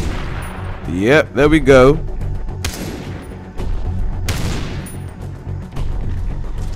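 Gunfire and mine explosions in the video game Far Cry 3: a handful of sharp blasts spread through the clip, with someone talking over them.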